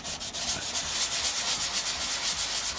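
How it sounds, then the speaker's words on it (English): Light hand sanding with 120 grit sandpaper on painted car bodywork for stone chip repair, a steady, close rhythmic rasping of back-and-forth strokes at low volume, with no voices. "light sanding with some 120"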